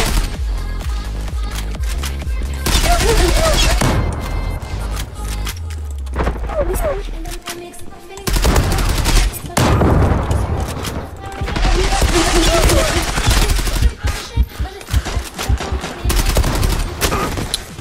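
Automatic gunfire from the Turkish-made Zula-Fateh rifle in the Zula video game on the Yeni Tahran map, with loud repeated bursts and booms spread across the clip alongside background game sounds and some talk.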